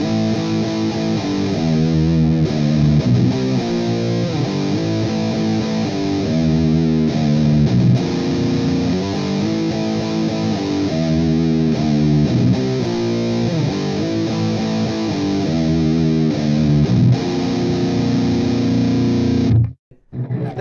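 A heavily distorted electric guitar in B standard tuning plays a sludge metal riff with a Phrygian feel, loud and alone for about twenty seconds before it cuts off abruptly.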